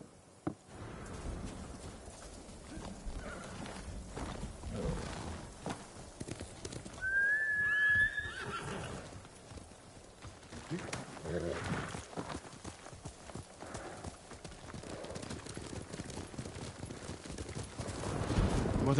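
Horse neighing and clip-clopping hooves in the Ghost of Tsushima video game, with one clear whinny near the middle amid a soft, faint background and speech.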